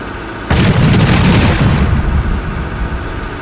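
Demolition explosive charges go off during a building demolition with one sudden loud boom, followed by a heavy, sustained rumble that slowly fades.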